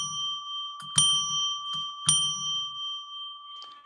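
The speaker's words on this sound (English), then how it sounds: "I'm going to ring a bell 3 times to declare sacred space." Small ringing bell struck three times in steady succession, each strike sharp and clear with a long sustained tone fading between hits, close and alone in a quiet room.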